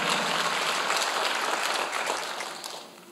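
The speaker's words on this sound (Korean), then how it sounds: "믿는 사람만 박수해야지" A church congregation at a Sunday worship service applauds in a dense, steady burst of clapping that starts loud and fades toward the end, with no speech over it.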